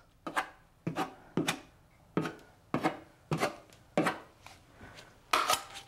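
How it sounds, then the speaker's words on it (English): A small putty knife scrapes and gouges wet drywall compound in about nine short, close, crisp strokes at an irregular, unhurried rhythm, with nothing else heard. "take your smaller putty knife and make little gouges in here. Little scrapes, gouges."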